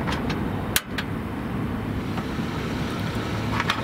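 A portable gas stove burner roaring steadily outdoors on a winter fishing trip, a constant loud rushing hiss with a few brief knocks and a faint wind-like wash over it.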